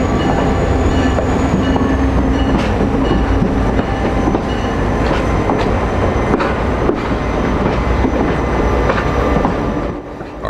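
Panama Canal Railway passenger train hauled by a former Amtrak F40PH diesel locomotive heading to Colón, with a loud continuous engine and wheel roar, rhythmic rail clatter and occasional squeal, heard close up without talk.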